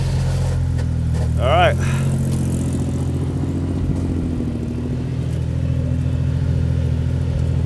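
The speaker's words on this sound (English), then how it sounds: "I have not fixed the throwout bearing on the clutch yet, so there's going to be noise." A 1970s Jeep CJ5 engine with a worn clutch throwout bearing runs with a loud, steady, close drone in extreme cold and snow. Someone speaks briefly over it.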